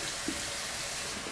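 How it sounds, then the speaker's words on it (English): Cold water runs steadily from a bathroom tap for face washing, a continuous close splashing hiss with no voices. "Just gonna wash your face with cold water."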